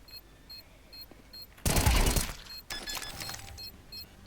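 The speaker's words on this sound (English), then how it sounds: "Defusing the bomb." A bomb being defused in Counter-Strike 2, a loud burst of game noise with sharp crashing and rattling, then continuing clatter and repeated faint high beeps over a steady background.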